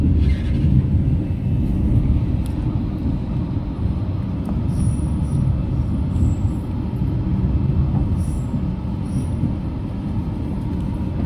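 A passenger train runs along the track near Yogyakarta, a loud continuous rumble with steady rolling wheel noise and faint high squeals, heard close and alone for the whole stretch.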